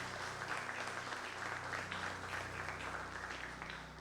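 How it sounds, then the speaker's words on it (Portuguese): A church congregation applauds steadily, a dense continuous clapping that fills the room for several seconds at an even level. "Vamos aplaudir o Senhor por isso"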